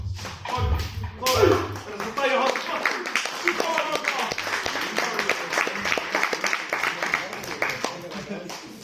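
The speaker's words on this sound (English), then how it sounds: "Folks, have a round of applause for our warriors." Steady applause from an audience at a Maori culture performance at Auckland Museum, many hands clapping together continuously for several seconds, fairly loud and close.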